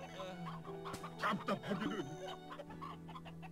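Chickens cluck in a medieval fantasy game world, a run of close, choppy clucks rising mid-way over a steady background hum, with a brief spoken line overlapping.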